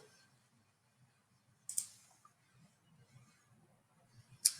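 Two sharp computer mouse clicks, one near the middle and one at the end, sound close and crisp over a quiet low room hum.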